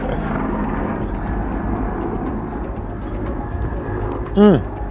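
A steady low engine drone rumbles throughout from an arriving helicopter, with a brief rising whine near the end and voices faintly underneath.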